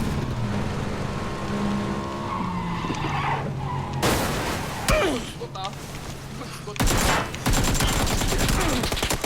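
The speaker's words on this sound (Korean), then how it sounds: "오토바이 사운드 확인 확인 확인" A motorcycle engine in the PUBG battle royale game revs and roars alongside tire skids and bursts of gunfire, loud and busy throughout, with abrupt cuts between sections.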